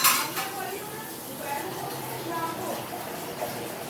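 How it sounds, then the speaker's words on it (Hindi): Bowls and dishes being washed in a home kitchen, with steady running water and clinking of metal utensils and pots throughout, fairly close. "मैं चली कटोरी वगैरह धो रही हूँ"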